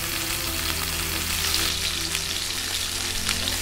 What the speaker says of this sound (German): Währenddessen mache ich jetzt die Patties in der Pfanne.